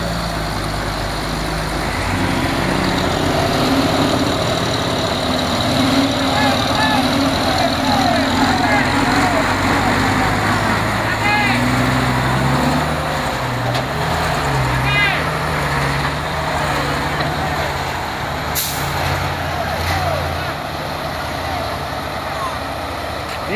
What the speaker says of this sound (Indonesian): Dam truk penolong di tanjakan Bukit Kodok. Oke, luar biasa dam truk, gas terus